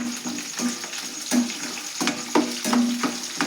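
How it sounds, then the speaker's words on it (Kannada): Peanuts fry in oil with a close, steady sizzle, broken by regular scraping stirs about every half second. "ಎಣ್ಣೆ ಒಳಗೆ ಫ್ರೈ ಮಾಡೋಣ."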